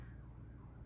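Emergency vehicle sirens wail faintly in the distance outdoors, a low, continuous background drone behind a quiet indoor room.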